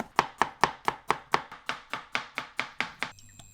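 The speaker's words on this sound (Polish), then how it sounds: "Cebulę i czosnek kroimy w kostkę." Knife chopping onion and garlic into cubes for homemade hummus, about a dozen crisp, evenly spaced strikes on a cutting board, close and steady, ending with quiet kitchen hum.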